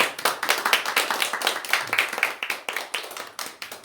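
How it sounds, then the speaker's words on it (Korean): Church congregation clapping together in thanks after a worship service, a steady burst of many hands close by, alone with no talking. "우리 다시 한번 고맙다고 박수 한번 치봅시다"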